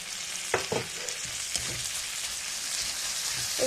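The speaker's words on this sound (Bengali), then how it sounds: "রসুনটা ভাজা হয়ে গেছে এখন আমি দিয়ে দিচ্ছি টমেটো কুচি এবং আদা" Chopped tomato and ginger hit a pan of fried garlic in very little oil, giving a steady, bright sizzle with a few close clatters of stirring near the start.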